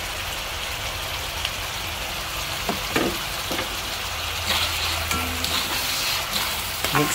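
Pork with green and red peppers stir-frying in a pan after sauce is added, a steady close sizzle with scattered crackles and a few scraping stirs throughout, no voices.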